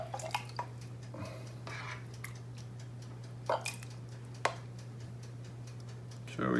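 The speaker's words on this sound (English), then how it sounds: "I'm going to ladle that out." A ladle scoops feta tomato soup from a pot, making soft scattered drips, taps and squishy clinks over a steady low hum.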